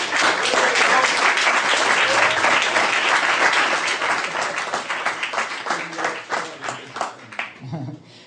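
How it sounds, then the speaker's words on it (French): An audience at a TV series fair gives guest Jacques Siron loud, sustained applause that thins into scattered claps before a voice briefly speaks. "qu'on peut applaudir bien fort"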